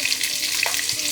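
Onions frying in hot oil give a bright, steady crackling sizzle, close and even across a brief moment with a few small pops.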